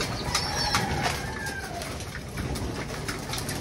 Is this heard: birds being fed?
yes